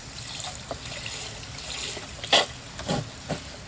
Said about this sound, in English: I'm going to put some more chicken stock in.